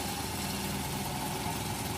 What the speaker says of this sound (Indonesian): dibiarkan mesin hidup sampai 5 menit atau 10 menit ya